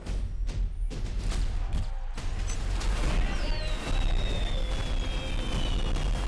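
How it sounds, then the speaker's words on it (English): Fireworks burst with several deep thuds and crackles, and a whistling streak trails off among them in a dense, loud outdoor mix. "Are those fireworks?"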